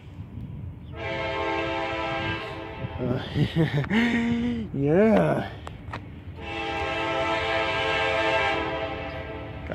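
A loud CSX coal train horn sounds in two long sustained blasts in light rain, with a brief spoken word and other noises between them.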